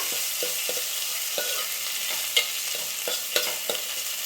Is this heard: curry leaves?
yes